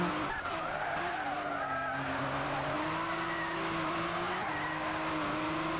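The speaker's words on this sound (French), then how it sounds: "Il en glisse total, Jorgos" Race cars sliding and skidding in a racing video game, with steady engine whine and tire squeal sustained loudly throughout, alone without talk.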